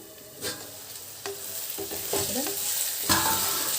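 Ginger masala fries loudly for Andhra-style prawn curry, broken by repeated scraping stirs of a spoon against the pan over a constant sizzle, close up and with no talking.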